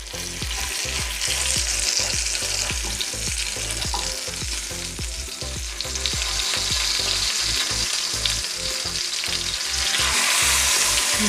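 Pearl spot fish sizzles loudly in a pan, wrapped in banana leaf, a dense continuous frying crackle with occasional stirring or shifting sounds, close and steady with no talk.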